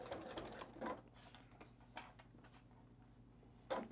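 A quiet sewing machine stitches fabric masks with a soft, steady mechanical whir and light ticking, with a few slightly louder bursts along the way.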